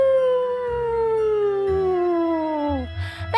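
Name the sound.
people imitating a wolf howl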